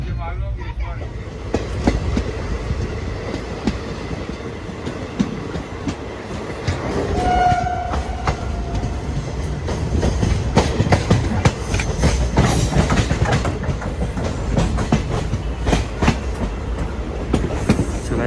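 A passenger train from Indore to Bhopal rumbles along with steady rhythmic wheel clatter and carriage noise, a brief tonal horn-like sound partway through, and faint voices in the background.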